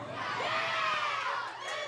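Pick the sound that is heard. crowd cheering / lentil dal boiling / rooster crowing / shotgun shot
crowd cheering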